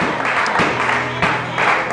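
A church congregation applauds to acclaim the Lord, steady crowd clapping in an indoor worship service that swells in a few waves over a short stretch.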